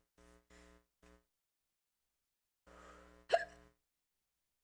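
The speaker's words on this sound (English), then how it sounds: "There's no way I actually have the hiccups." A streamer hiccups on a live stream: a few short, soft voiced bursts come first, then after a pause a longer one rising into a sharp, louder hiccup spasm, all close and alone with no talk.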